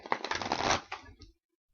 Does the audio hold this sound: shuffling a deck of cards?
yes